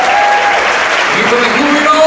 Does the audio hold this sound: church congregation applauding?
yes